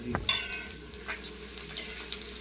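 Onion frying in oil in a pan, a faint steady sizzle opening with a soft knock of a utensil and light stirring.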